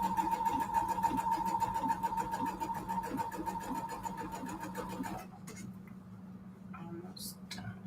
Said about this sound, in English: Let me make this sewing machine faster.